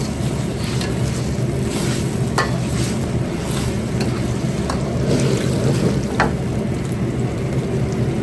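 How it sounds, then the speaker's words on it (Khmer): Vegetables with chicken and beef stir-fried in a pan give a steady, close sizzle. Occasional stirring scrapes break through it, and no one speaks. "ចាបន្លែជាមួយសាច់មាន់ហើយសាច់គោបន្លែ"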